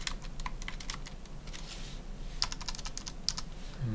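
Computer keyboard keys pressed one at a time while editing text input fields, a sparse, irregular run of light clicks with two sharper taps near the end, close and quiet against a faint hum.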